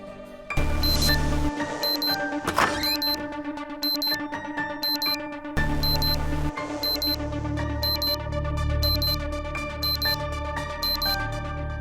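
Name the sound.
phone alarm ringing early morning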